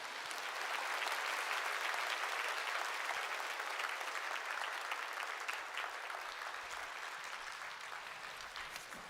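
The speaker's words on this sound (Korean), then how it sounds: "나오실 때 큰 박수로 축복해 주시기 바랍니다" Sustained applause from a church congregation welcoming a missionary guest speaker to the pulpit, a dense steady clapping that stays loud throughout and eases slightly toward the end.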